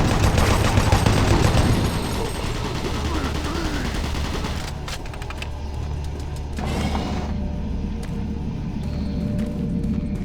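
In Doom 3 BFG Edition, automated turret guns let off a heavy volley of gunfire at the start, then a sustained low rumble and mechanical clatter carry on beneath a voice.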